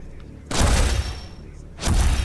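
Gunfire in the arena shooter Quake Champions: two loud, booming bursts of weapon fire, the first running for over a second and the second starting near the end, set against low game noise.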